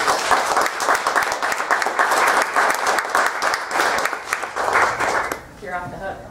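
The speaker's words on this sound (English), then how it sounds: "I want to offer him another big round of applause" Dense, sustained applause from a crowd fills most of the clip, loud and steady, then cuts off abruptly as a voice begins.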